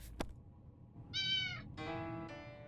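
A cat in the survival game 60 Seconds! Reatomized lets out a clear, close meow, then a second drawn-out meow and a shorter third one, heard alone without talk.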